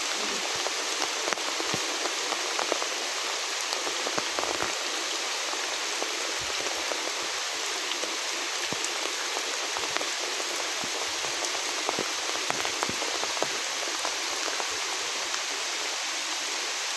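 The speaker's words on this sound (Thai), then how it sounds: "ฝนตกนี่บ่หยุดบ่เช้า" Heavy rain falls hard and unbroken on a rural farm path, a thick, even roar of water with scattered droplet ticks. It carries on close and loud, with no one speaking.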